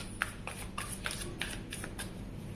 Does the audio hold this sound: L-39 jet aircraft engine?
no